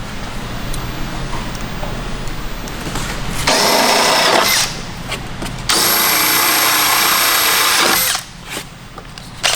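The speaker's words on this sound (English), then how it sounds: "I need to put the drill in the back here to get in" A power drill whirs loudly in two sustained bursts, a short one then a longer run of about two seconds, with quieter background noise between, while working on a fifth-generation Camaro ZL1.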